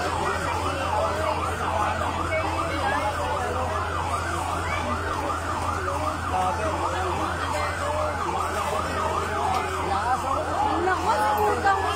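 A fire truck siren at a fire in Tondo, Manila wails loudly and continuously in rising and falling cycles, with traffic rumble and voices underneath.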